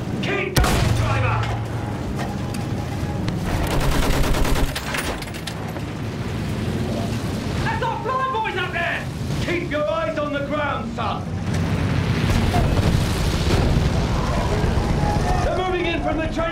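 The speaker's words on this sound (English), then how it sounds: "Use that machine gun! Mow them down!" Machine gun bursts and explosions from Battlefield 1 combat roar continuously amid wind-like rumble and shouted battlefield voices, dense and loud throughout.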